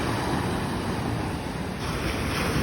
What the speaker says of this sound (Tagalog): Alon, hindi masyadong malaki.